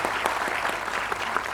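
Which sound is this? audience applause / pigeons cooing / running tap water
audience applause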